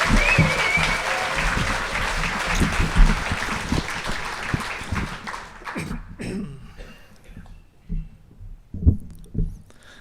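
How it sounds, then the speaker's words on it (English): Loud applause from a Liars Contest audience welcoming a storyteller to the stage, dense clapping for about six seconds that cuts off abruptly, followed by a few scattered claps and thumps in a quieter room. "I would like to welcome you to this stage to thunderous applause."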